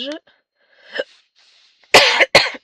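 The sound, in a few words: coughing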